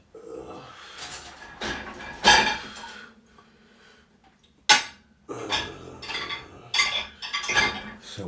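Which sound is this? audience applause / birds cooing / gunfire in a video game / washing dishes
washing dishes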